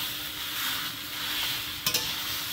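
Soybean chunks sizzle in a hot pan on a home stove, giving a steady, close frying hiss, with a couple of quick stirring clatters near the end.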